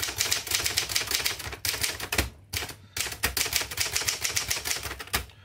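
Rapid, steady typing on a 1958 Adler Special manual typewriter, close and crisp, with a brief pause and a carriage-like gap partway through before the keystrokes resume.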